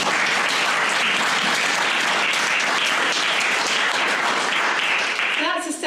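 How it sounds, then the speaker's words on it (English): An audience at a literary conversation event with two authors breaks into a loud, dense round of applause that holds steady for several seconds, then begins to thin out as a voice starts speaking near the end. "round of applause"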